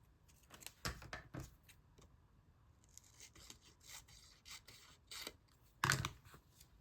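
Paper pieces for a collage being cut with scissors: a series of short, crisp snips and papery rustles at close range, with a louder, sharper cut near the end and no talking.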